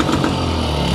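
A vehicle engine in a shop runs steadily right after a transmission test through first, second and third gear, giving a loud, continuous close-up rumble with no pauses.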